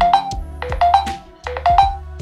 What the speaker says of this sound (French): Et là, le téléphone se met à sonner.